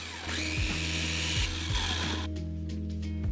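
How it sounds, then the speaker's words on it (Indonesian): A kitchen blender running as cream cheese and granulated sugar are blended, its motor whirring and shifting pitch as it labors, then changing character near the end. "Jadi pertama kita masukkan cream cheese-nya dan juga gula pasirnya ke dalam blender."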